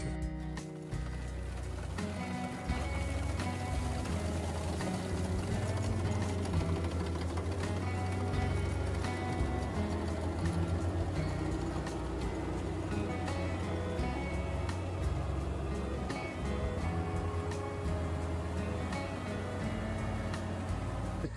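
A Kubota Harvesking combine harvester cutting rice paddy runs with a loud, steady engine drone and mechanical rattle throughout, close by and unbroken, with no talk.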